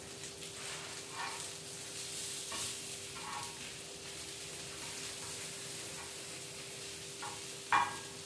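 Onions fry on a hot tawa griddle with a steady, close sizzle throughout, stirred now and then with a few brief scraping clinks, and no voices.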